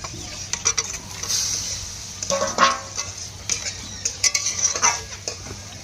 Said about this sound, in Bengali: পরিমাণ মতন জল দিয়ে দেবো, ভেজে রাখা ডিম দিয়ে দেবো